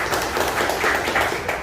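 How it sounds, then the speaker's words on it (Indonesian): Audience applause for a speaker at a public discussion and charity event, a steady dense patter of many hands clapping, fairly loud and continuous with no talk over it. "Ya, tepuk tangan buat Pak Kiri."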